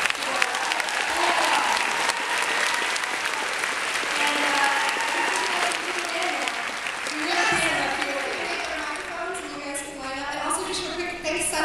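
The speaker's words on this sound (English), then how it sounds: "Let's give it a round of applause" Sustained audience applause fills a large hall at a Comic-Con panel for The Guild, steady and loud for most of the stretch before thinning out, with a few voices and cheers mixed in near the end.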